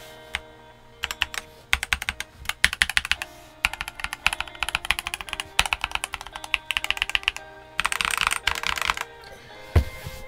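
Typing on a stock Tecware Phantom mechanical keyboard, bursts of quick, crisp key clicks in uneven runs with short pauses between them, close and clear with no talking.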